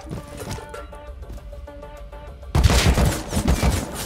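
Gunfire in the survival game Rust comes first as scattered distant shots, then as a loud, dense burst of rapid automatic fire in the second half, with no talking.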